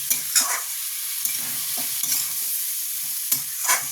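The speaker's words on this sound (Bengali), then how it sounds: "ভালো করে একটু নাড়িয়ে জল দিয়ে দেবো" Mourola fish curry is stirred in a pan over sizzling heat, with a few distinct scraping strokes against a steady frying hiss and no talking.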